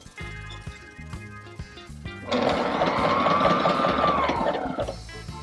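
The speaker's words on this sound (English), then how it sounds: "and I'm going to start sewing." A Sailrite sewing machine stitching a hatch cover, first a few short stop-start bursts, then a loud steady run of rapid needle thumps and motor whine for several seconds.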